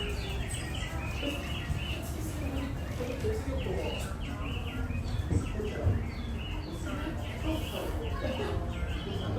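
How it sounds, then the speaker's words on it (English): Birds chirp and tweet throughout an indoor space at the Hong Kong Flower Show, their calls mixed with a steady murmur of people talking in the background. "And you hear the sound of birds in here, it's really cool."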